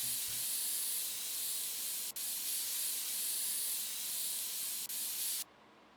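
Aerosol compressed air spraying onto a dusty motherboard in PC Building Simulator, a loud sustained hiss with two brief breaks that cuts off abruptly near the end.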